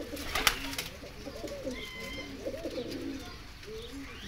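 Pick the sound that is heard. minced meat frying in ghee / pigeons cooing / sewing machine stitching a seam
pigeons cooing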